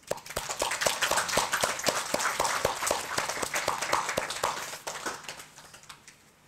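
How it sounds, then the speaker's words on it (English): An audience at a lay Buddhist gathering claps together for the fathers, a dense patter of hand claps that swells, holds steady for several seconds, then thins and fades out. "So give all our fathers a round of applause."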